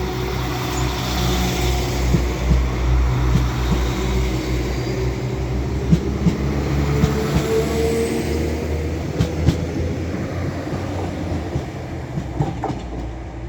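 A passenger train rumbles steadily past at close range at York station, a low continuous drone of wheels on rails with faint clicks and rattles.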